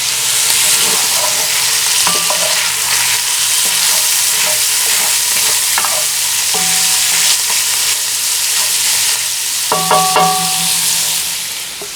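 Paella sizzling and frying steadily in a charcoal-heated Dutch oven, a loud continuous crackle with a few clinks of utensils against metal.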